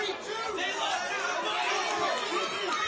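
A boxing crowd shouting and chattering, a dense, steady wash of overlapping voices calling out around the ring, with no single voice standing clear.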